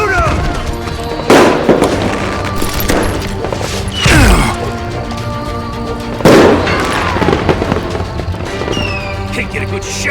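Gunfire in the Western shooter Call of Juarez Gunslinger: a few loud, sharp shots a couple of seconds apart over a busy game soundtrack and effects.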